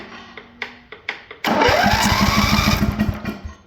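The Cub Cadet tractor first gives several short clanks and taps. Then a loud engine cranks and tries to start, a rapid rhythmic churning with roaring noise that continues close by for a few seconds.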